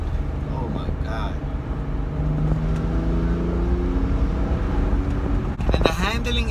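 A car engine hums steadily with rising revs, while a person talks excitedly over it and a brief rattle sounds near the end.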